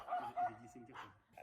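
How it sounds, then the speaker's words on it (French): A pet dog named Jelly gives a couple of short, fairly faint barks and yips indoors while a person talks over them. "Tu aboies, Jelly, qu'est-ce qui se passe?"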